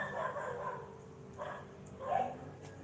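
A dog inside a house barks in short bursts, about three moderately distant barks spaced through a damp, rainy-morning background with no talking.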